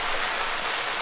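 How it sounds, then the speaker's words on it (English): Oats pouring slowly into a bucket on a farm during spring cleaning, a steady dense hiss like rain with no break and no voices. "It's raining oats, folks."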